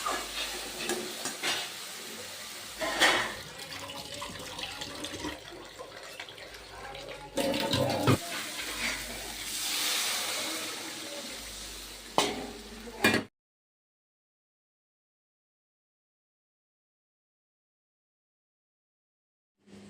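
Potatoes for a paneer curry are stirred and fried in a pan, giving a steady sizzle with scraping stir strokes for about thirteen seconds, then the sound cuts to silence.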